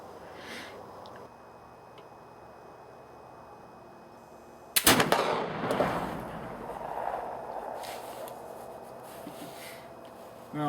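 A single loud, sharp report from a Traditions Kentucky flintlock rifle loaded with a real bullet over 80 grains of 2F black powder, followed by a lingering rumbling tail and faint sounds afterward.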